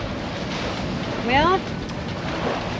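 A sailboat over 15 years old sails on the ocean off Point Mugu without its engine, a steady rush of wind and waves with microphone wind noise as a voice briefly speaks.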